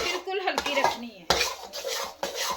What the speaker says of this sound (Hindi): ताकि अच्छी तरह से बेसन रोस्ट हो जाए, कोई कच्चापन ना रहे बेसन का।